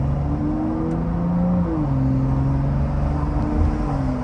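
A BMW 335 with an N55 engine running a Stage 2 tune and FBO setup, driven gently: a steady, close engine drone with shifting harmonic pitches as revs rise and fall, no voices.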